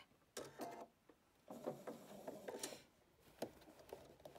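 A home sewing machine stitching along the edge of a fabric scrub or skull cap near its elastic, heard as quiet mechanical whirring and clicking bursts, starting and stopping several times, with no talking.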